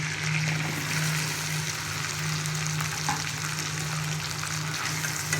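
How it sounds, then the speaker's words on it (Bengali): Cut potatoes coated in turmeric and salt frying in oil, a steady close sizzle with crackling bubbles running throughout with no pauses. "একই তেলে কেটে রাখা আলুগুলোকে ভেজে নেব।"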